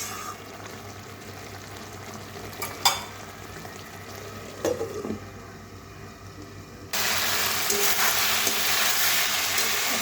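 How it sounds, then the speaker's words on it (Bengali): Chilli paneer masala fries in oil in a pan, with a soft continuous sizzle, a few sharp stirring knocks, and a louder, brighter hiss in the final seconds. "এটাকে ভালো করে কষিয়ে তেল ছেড়ে দেবো"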